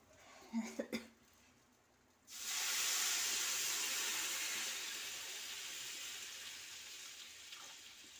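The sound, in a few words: water being poured into semolina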